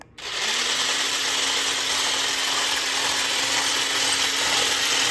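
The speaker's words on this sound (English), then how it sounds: "We have our nice immersible blender with our whisking tool on it." Immersion blender fitted with a whisk attachment, switched on after a brief quiet start and then running as a loud, steady high-pitched whir with a constant motor tone, close by and alone.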